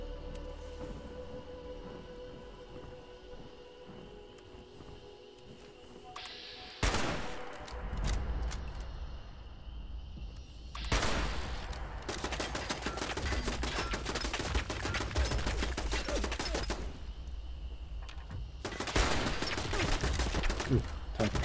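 Turret firing in Fallout 76, bursts of rapid gunfire that start suddenly and return in long sustained volleys, loud over a low background hum.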